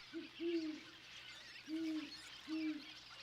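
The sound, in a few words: great horned owl hooting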